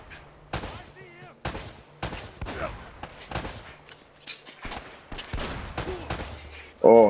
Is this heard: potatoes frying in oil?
no